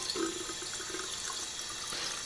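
In a video game, water pours from a hot water tap with a steady, even hiss that stays level throughout, moderately quiet, with no voices.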